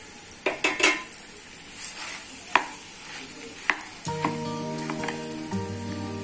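Mashed potatoes stirred into roasted gram flour and spices in a pan for a kachori filling: a spoon clinks and scrapes against the metal in scattered knocks, followed by a steadier clatter of stirring.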